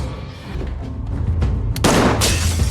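Loud gunfire cracks out amid a chaotic, noisy scene, a couple of sharp blasts standing out over a dense rumble.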